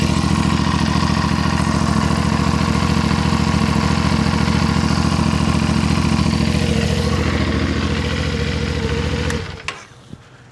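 A CFMOTO Ibex 450 motorcycle engine idles steadily up close, a continuous low rumble with an even pulse that runs unbroken for about nine seconds before the engine cuts off and falls quiet.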